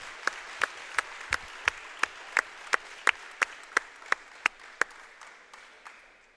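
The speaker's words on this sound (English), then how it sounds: "let's have a round of applause." Around fifteen sharp, evenly spaced claps ring out one after another in a quiet gym during a JV volleyball game, as a crowd applauds an injured player getting back up, the rhythm thinning and fading toward the end.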